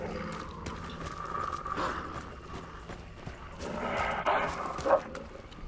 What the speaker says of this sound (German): Ach, das sind wieder die Hunde.